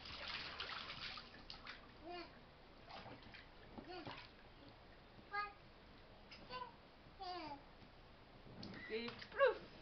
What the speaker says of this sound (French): Et plouf, plongé.